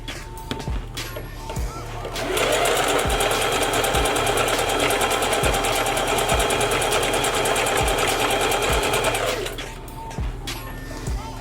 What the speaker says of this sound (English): You stop, get your weft back together, and then you start sewing again.